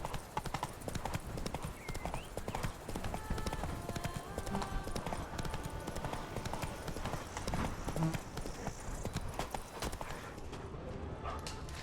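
Horse hooves clip-clop steadily in The Witcher 3: Blood and Wine as the mount trots along, a continuous rhythmic patter at moderate distance with occasional talk over it.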